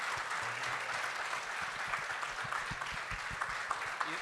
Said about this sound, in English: Can you give a round of applause for our panelists?